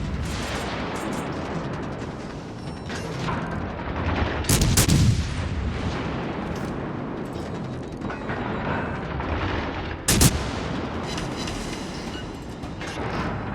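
Cruiser München's gun salvos in the naval video game World of Warships Legends, with heavy booming volleys at intervals over continuous engine and ocean rumble, loud and close with no speech.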